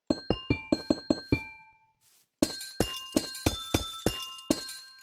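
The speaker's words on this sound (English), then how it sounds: "Block amethysts. They make a lovely sound." Amethyst blocks in Minecraft give off bright, glassy chimes, about a dozen crisp ringing clinks in quick runs with a short pause midway, each note decaying cleanly.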